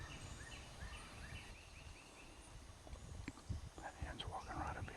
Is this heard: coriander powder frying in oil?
no